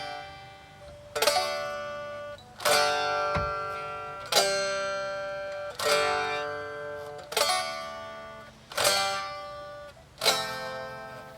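Strummed guitar chords ring out one at a time, about seven in all, each separated by a short gap as the shape changes, slightly uneven and buzzy.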